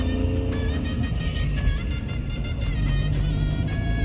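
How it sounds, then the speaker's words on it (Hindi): Car driving with a steady engine drone and low rumble as it shifts into second gear, loud and close from inside the vehicle, with a brief change in engine pitch and no speech. "ये देखो दूसरा गेयर लगा लिया अपन जा रहे हैं मस्त तीसरा लग गया"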